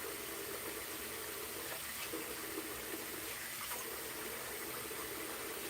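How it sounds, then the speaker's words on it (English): Water drains from a hotel bathroom sink with a steady, soft gurgling trickle that continues unbroken at low volume, close by and heard alone. "The sink is losing water."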